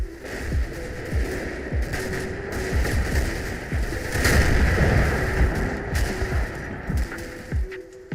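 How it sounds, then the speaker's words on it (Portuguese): Anti-tank gun fire in the WWII strategy game Combat Mission Fortress Italy at Biazzo Ridge, Sicily: repeated heavy booms and cracks over a dense rumbling battle background, with scattered sharper reports throughout. "Aparentemente, aquele canhão antitanque continua em atividade."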